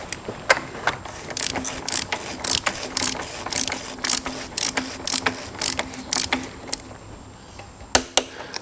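A torque wrench ratchets in quick bursts of clicks while tightening a plug during a VW oil change, tightened to 25 newton metres, the clicking close and crisp with short pauses between strokes.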